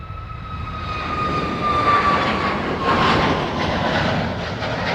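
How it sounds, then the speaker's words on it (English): A Boeing 737 MAX at East Midlands Airport, heard from the end of runway 27, gives a loud jet-engine roar with a high whine that builds and holds steady across the clip. "the engines on the MAX seem to be louder than the"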